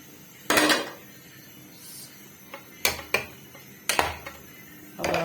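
A spoon stirring in a metal kadai gives a few sharp clanks and scrapes, one early, several spaced hits later, over a quiet background.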